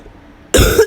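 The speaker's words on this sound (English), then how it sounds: "Cough, cough, if you can't tell." A single sharp cough bursts out close by after half a second of near silence, lasting a brief moment before cutting off.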